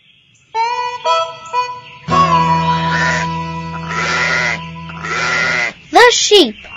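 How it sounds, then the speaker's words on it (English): A farm sheep bleats in several long, wavering cries, loud and close, with a steady low hum beneath and a sharp higher bleat near the end. "The sheep."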